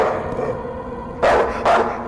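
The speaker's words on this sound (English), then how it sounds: "Alright, so they're all dogs." Dogs barking in a horror video game, two loud close barks in quick succession over a low droning ambient background.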